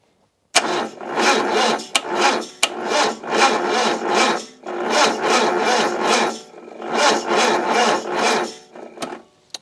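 A Yugo Sana / Zastava Florida engine cranks over sluggishly on a weak battery, with loud, rhythmic starter churning in repeated bursts of about one second that stop and restart several times, close up, with no voices.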